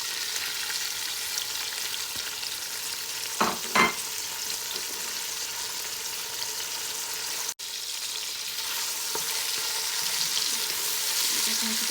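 Chopped onion frying in a pan of oil as the base for a desi-style aloo pilau, giving a steady broadband sizzle for the whole stretch, with a couple of brief stirring knocks and a short dropout partway through.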